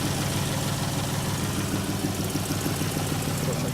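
A 2014 Chrysler 300 with flood and fire damage idling, a steady rumbling engine note with a faint irregular ticking, close and continuous with no talk.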